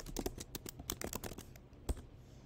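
Rapid keystrokes clatter on a computer keyboard, a close burst of quick clicks that slows to a few isolated taps near the end.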